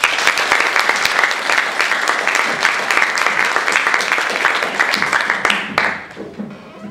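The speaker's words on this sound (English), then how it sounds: "Can we give her a round of applause?" Loud sustained applause from an audience at a talk on human trafficking, dense clapping filling several seconds before tapering off and fading out near the end.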